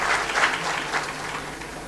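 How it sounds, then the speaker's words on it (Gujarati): A lecture audience claps steadily for a couple of seconds, producing a dense, continuous burst of applause. "આપણે જોરદાર તાળીથી બતાવીએ"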